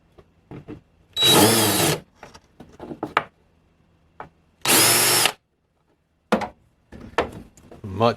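A power drill fitted with a countersink bit deburrs a small metal emblem in two loud, whining bursts of about a second each, with brief spoken remarks and handling clatter in the gaps between them.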